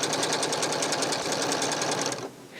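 A Janome Skyline S-series sewing machine running a programmed stitch sequence onto stabilizer, a fast, even mechanical chatter of needle strokes, loud and close, stopping abruptly just before the end.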